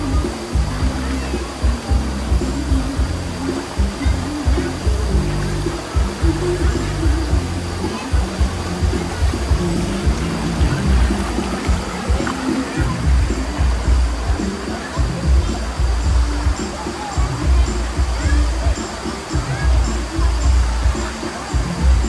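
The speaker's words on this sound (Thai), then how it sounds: "น้ำไหล" Steady, dense rush of flowing water at Tad Vung Hoi waterfall along Route 13 South in Laos, a continuous broadband roar heard near and fairly loud throughout with no clear breaks.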